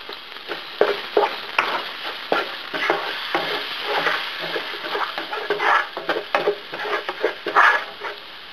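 Garlic fries in hot oil with a close, steady sizzle, broken by scraping and stirring clicks from a utensil in the pan.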